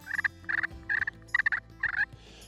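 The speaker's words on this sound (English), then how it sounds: "Clucks, and then purrs." A quick series of raspy turkey clucks and rolling purrs from a slate call, coming in five close bursts with brief gaps between them.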